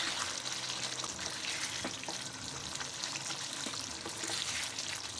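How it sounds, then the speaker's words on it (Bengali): A paneer, cauliflower and potato curry simmers and fries steadily in a pan while being stirred, giving a continuous soft sizzle with occasional light scrapes and clinks, quiet and without voices. "আবারও আমি খুব ভালো করে নেড়ে চেড়ে ফুটিয়ে নেব"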